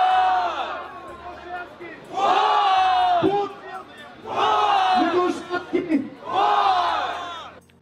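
A large crowd at a Navalny political rally shouts in four loud unison chant bursts, separated by brief pauses, with a voice leading between them.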